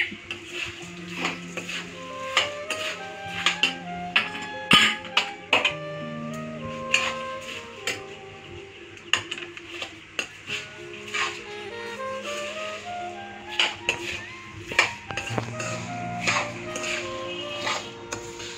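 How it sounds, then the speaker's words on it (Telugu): Pre-fried flattened rice (poha) is stirred into a hot tempering in a metal pan, giving repeated clinks and scrapes over steady tonal background music. "ఇప్పుడు ఈ తాలింపులో మనం ముందుగా వేయించి పెట్టుకున్న అటుకుల్ని యాడ్ చేస్తున్నాము"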